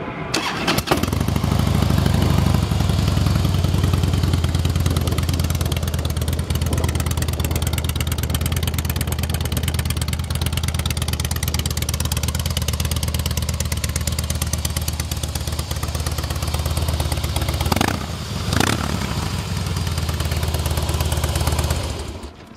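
A 2008 Harley-Davidson Softail Custom FXSTC with 11,354 miles starts and settles into a steady, loud, deep V-twin idle with a rumbling lope, recorded up close, with a couple of brief throttle blips near the end.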